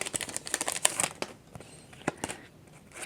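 A Winx collectible card packet crinkles and tears as it is opened by hand. A dense run of sharp plastic crackles comes close up, then eases into a few scattered crinkles.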